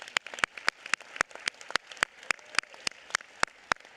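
Sparse, evenly spaced sharp claps, around a dozen distinct hits, from a small group at a Los Angeles County Board of Supervisors meeting giving Porto's a round of applause; quiet and thin rather than a full ovation.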